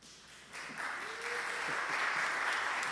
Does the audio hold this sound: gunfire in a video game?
no